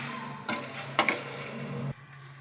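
Okra frying in a pan, a low steady sizzle with a couple of clinks of a utensil being stirred, ending abruptly, no talking.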